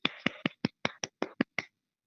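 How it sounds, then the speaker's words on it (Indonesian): Applause for a presenter at an evening business meeting comes as about nine crisp, evenly timed claps in a steady rhythm, close and clear, ending abruptly. "teman-teman berikan tepuk tangan yang meriah"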